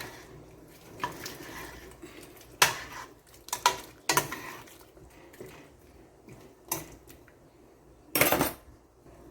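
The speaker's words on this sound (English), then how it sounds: "So I'm gonna add to it my pumpkin and my carrot and let those boil." Pumpkin and carrot going into a pot of boiling Jamaican red peas soup with pigtail and chicken foot, several scattered clinks and knocks of a utensil against the pot over soft bubbling, close and fairly quiet.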